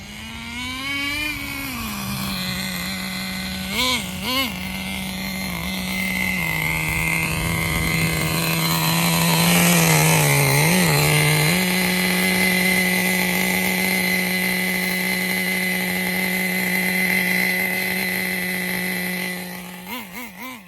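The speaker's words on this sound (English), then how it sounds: "Now I can focus on tuning the engine here with the Pro 15." Thunder Tiger TS-4n RC boat running a 4Tec Pro .15 nitro engine during tuning, a loud high-pitched buzzing whine that holds steady, with a few quick blips in pitch and a rise near the middle, close and continuous.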